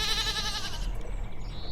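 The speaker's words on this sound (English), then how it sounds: "This goat seems to be the leader of the herd." A goat bleats in The Count Lucanor, a single wavering, nasal cry that is close and clear and breaks off within a second, leaving a low background hum.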